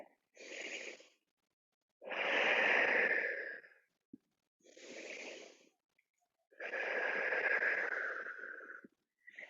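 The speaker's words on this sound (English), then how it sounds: "Take 2 deep breaths." Deep, slow breaths during a low-impact flexibility workout: two full inhale-exhale cycles, each a soft airy intake followed by a longer sighing release, close and clear against silence.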